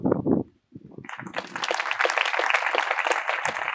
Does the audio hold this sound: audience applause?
yes